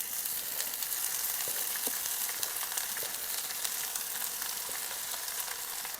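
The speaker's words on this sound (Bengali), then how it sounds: "আমি শাক দিয়ে দিতেছি।" Dhekir shak (fern greens) sizzles in hot oil in a pan, a close, steady frying crackle with light stirring ticks throughout and no voices.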